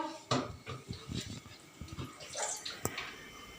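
Running water and clattering dishes and utensils as a mother washes them in a home kitchen while khichuri cooks on a rainy day; a steady wash of water with intermittent clinks and knocks, close by, no talking.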